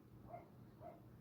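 Two faint barks from a dog some distance away, evenly spaced, over a low background hum.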